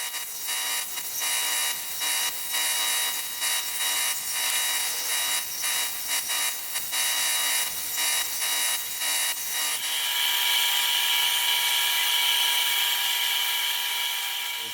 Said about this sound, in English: Now I'm going to go clean these up on the sander and they'll be done.